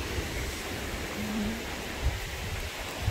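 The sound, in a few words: stream flowing water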